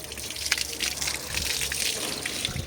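Water spraying from a garden hose at fairly high pressure onto flowering plants, a steady close hiss and gush with slight shifts as the stream moves across foliage.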